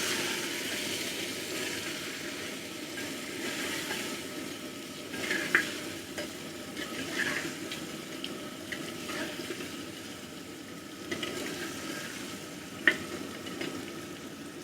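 Beef pieces frying and being stirred in a pot with garam masala for beef and pea pulao: steady soft sizzle with scraping spoon strokes and occasional louder clinks, close and continuous, no talking.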